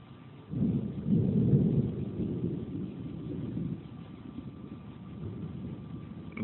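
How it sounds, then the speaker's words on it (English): Thunder from a heat lightning storm, a deep, rolling rumble that swells within the first second and then slowly fades into a low, steady grumble with no talk. "from the sounds of that thunder"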